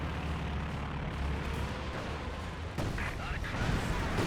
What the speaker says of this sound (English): Katyusha barrage over here looks like